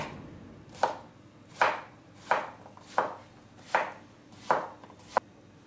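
Zucchini being chopped with a knife on a board, seven sharp, evenly spaced close chops at a slow, steady rhythm, heard alone without speech.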